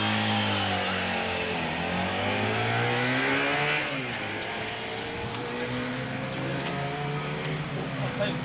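Motorcycles racing hard on their final lap, engines droning and revving steadily with rising and falling pitch sweeps as machines pass close by, loud and continuous throughout with no clear break.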